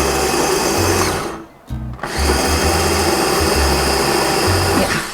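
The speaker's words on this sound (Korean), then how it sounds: "한번 거칠게 갈아 볼게요" A kitchen grinder coarsely grinds pumpkin seeds, sliced almonds and cashews, a loud steady motor whir that cuts out briefly, then restarts and runs on with rattling pieces.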